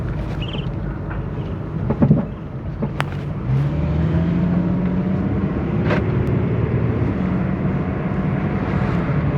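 A Ford Mustang with wheel wobble and poor steering alignment drives and accelerates, its engine rising into a steady, fairly loud drone heard from inside the cabin after a few knocks and clicks, with no talking.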